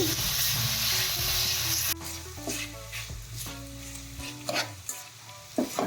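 Grated bottle gourd for halwa sizzles while being sautéed and stirred in a pan, with a steady frying hiss broken by scraping strokes of the spoon and occasional clinks.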